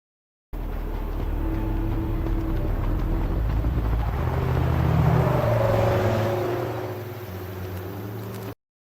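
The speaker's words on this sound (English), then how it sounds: "When it gets close to the camera in here, in this duration, you'll hear the car engine louder." A car engine, AI-generated as a sound effect, drones steadily and swells louder as the vehicle nears and passes, then eases back while staying loud, with no voices.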